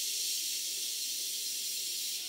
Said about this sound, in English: This safety valve is blowing off at 90 pounds per square inch, which is the working pressure for this engine